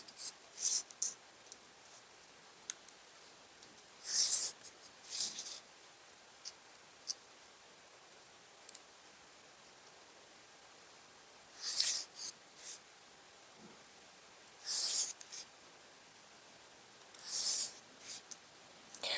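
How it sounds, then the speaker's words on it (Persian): Pencil strokes on paper as pattern lines are ruled up from the wrist with a set square while drafting a sleeve pattern; soft, quiet scratchy bursts recur at irregular intervals against near silence. "از قسمت مچ گونیا قرار میدم و این خطوط رو تا بالا رسم میکنم"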